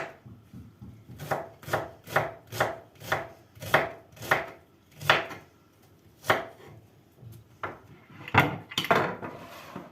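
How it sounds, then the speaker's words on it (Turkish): A knife finely chops an onion on a cutting board, a steady run of sharp, close strikes with brief pauses and a quick burst near the end. "ince ince doğruyoruz arkadaşlar."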